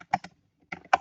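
Two short bursts of computer keyboard typing, a few quick clustered keystrokes, then a pause and another cluster, close and fairly quiet with no talking.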